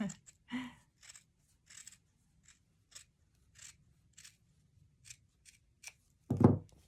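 Scissors snipping through felt along scalloped edges of a gingerbread house ornament, a dozen or so short close cuts spaced irregularly, ending in a louder rustle of handling.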